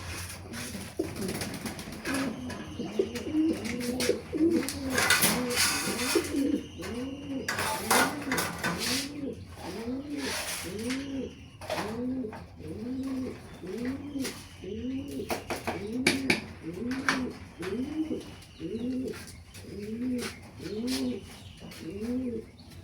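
Racing pigeons cooing in their loft, a steady run of repeated rolling coos up close, with bright clatters and scrapes of feed being poured and a voice speaking softly at times.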